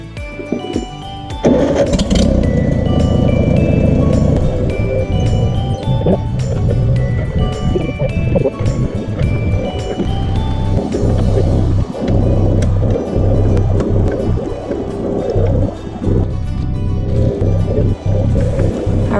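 A tractor engine runs steadily after work on its plow hitch, a loud continuous low rumble and clatter that fills the whole stretch with small surges in intensity.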